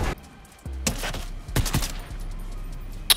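Bursts of gunfire in a Fortnite solo match, a few sharp, loud shots in quick succession amid in-game noise, with no talking over them.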